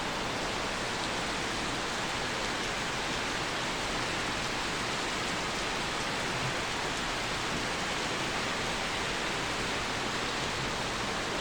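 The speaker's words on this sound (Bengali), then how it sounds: "ওই যে টিনের চালে টুপ টুপ রিমঝিম বৃষ্টি" Steady rain pours onto a tin roof, a dense continuous hiss of drops with no pauses and no voices, faint and even throughout.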